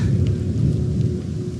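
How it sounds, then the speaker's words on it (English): Thunderstorm closing in on a solo hiker in the Victorian Alps near Mount Bogong, a deep, continuous low rumble of thunder mixed with wind and rain noise, loud and unbroken. "This storm that was tracking to my left has now veered and is on a collision course for me, essentially."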